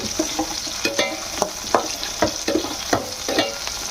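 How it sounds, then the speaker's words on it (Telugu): Green chillies fry in hot oil in a pan for hotel-style tomato chutney, giving a soft steady sizzle. A spoon stirs them close by with repeated sharp scrapes and clinks, and nobody speaks. "ఎక్కువ వేగాల్సిన అవసరం లేదండి పచ్చిమిరపకాయ కొంచెం మగ్గితే సరిపోతుంది"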